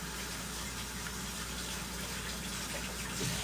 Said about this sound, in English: just gonna wash my hands real quick